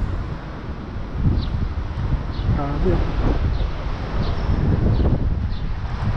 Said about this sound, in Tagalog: tignan nyo po ang lakas ng hangin